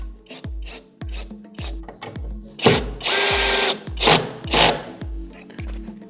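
Power drill driving screws into a wooden pallet workbench, several short whirring bursts with pauses between, close and loud, plus a longer continuous run midway.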